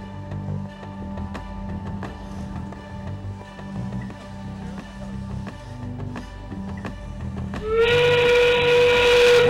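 A loud, sustained steam-whistle-like warning tone cuts in near the end of a 2015 robotics regional match, sounding over steady arena rumble and scattered clanks as under 20 seconds remain.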